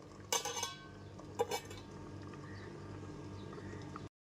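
A metal lid clinks twice as it is lifted off a pot of simmering potato and taro curry, followed by a quiet steady background.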